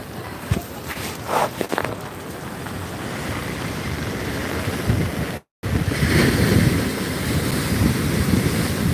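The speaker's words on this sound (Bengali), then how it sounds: "আজকের ওল দিঘা সমুদ্র সৈকতের ঢেউ" Steady roar of sea waves breaking and washing up the shore at Old Digha beach in rainy weather, with strong wind buffeting the microphone and a brief dropout midway.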